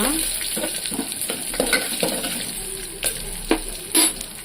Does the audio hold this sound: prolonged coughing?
no